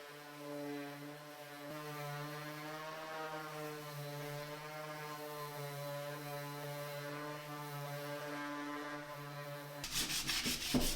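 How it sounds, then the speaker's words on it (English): An electric sander hums steadily and evenly on wooden cabinet doors for several seconds, ending with a rougher, louder burst of scraping. "now I'm going to give everything a nice sanding down"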